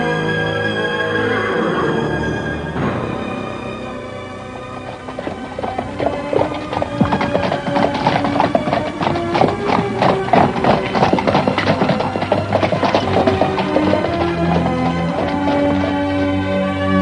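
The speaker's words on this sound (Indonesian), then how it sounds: "Dokar itu telah berderap kencang ke arah timur" Hooves of a horse pulling a dokar cart gallop hard eastward, a rapid, loud clip-clop rhythm that starts a few seconds in over dramatic background music and continues to the end.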